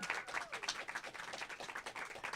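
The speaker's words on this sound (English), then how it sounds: "I would love if you guys can clap one more time for her" Modest applause from a small live audience at a poetry reading event, a patter of hand claps with a few voices mixed in, fairly quiet and lasting a couple of seconds.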